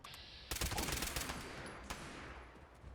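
Rapid gunfire from the Mysterious Stranger's pistol in Fallout 76: after a brief pause a fast, loud string of shots rattles out, then the reports fade into echoing tail with one more lone shot.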